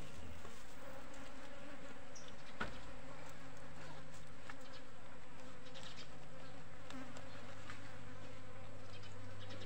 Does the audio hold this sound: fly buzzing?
yes